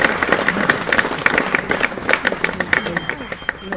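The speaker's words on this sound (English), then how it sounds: "Round of applause to Peter, who's joined us for The Greater Game" An outdoor audience at a First World War cemetery gives a round of applause for a guest speaker, a dense patter of many hands clapping steadily at moderate distance.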